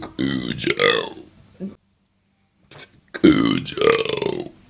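Two deep, drawn-out burps rumble close to the mic, separated by a stretch of silence and a brief quiet sound, each loud and croaky with a long voiced tail.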